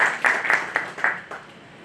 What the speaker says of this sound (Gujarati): તમને તો થોડી તાળીઓ પાડતા રહો તો સ્પીકરનો ઉત્સાહ રહે